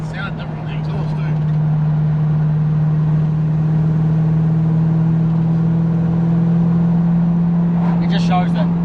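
The engine of a Mazda B2000 ute (1UZ swap) under repair runs steadily with a low, constant drone, idling and revving without a break for about nine seconds, loud and close.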